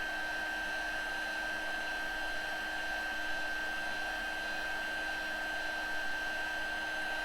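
A heat gun blows with a constant, even whooshing drone as it melts embossing powder on a card, steady throughout with no pauses or talking.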